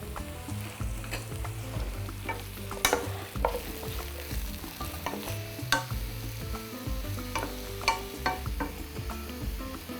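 Cauliflower fries in a pan for a dish made with mushrooms, sizzling steadily while sharp scrapes and clacks of stirring break through at intervals; no voices.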